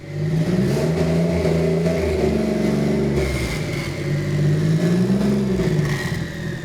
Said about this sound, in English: The car then moved under its own power for the very first time.